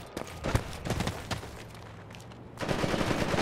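Gunfire in a video game battle in Gaza, with rapid sharp shots in a quick burst, then a lull before a louder sustained rush of noise.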